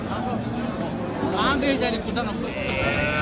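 A Sahiwal heifer calf at the Ambari cattle market in Dinajpur gives a short bleat amid a steady babble of voices and market noise, with people talking throughout.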